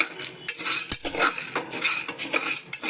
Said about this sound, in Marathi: या कुकरमध्ये आता मी हे घालतोय आणि व्यवस्थित भाजून घेतोय